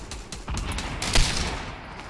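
Gunfire in a 50 v 50 video game match, rapid bursts of shots crackling close and loud in a continuous, dense volley with a sharper peak partway through.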